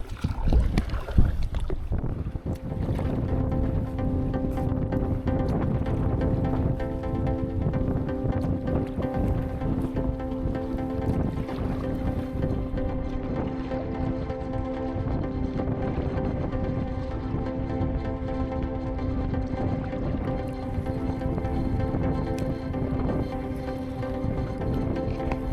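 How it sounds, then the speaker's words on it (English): Wind rushes across a bay near Chokoloskee in the Everglades while someone paddles, a steady broadband roar with microphone buffeting that stays loud for the whole stretch. "you can see the wind blowing across the bay"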